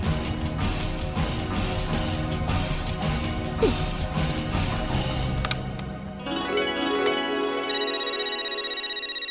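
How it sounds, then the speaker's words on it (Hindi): A busy stretch of clattering, whooshing sound effects gives way to a repeating electronic phone ringtone with a steady, pulsing tone. "ये आ गया पोपटलाल का फोन"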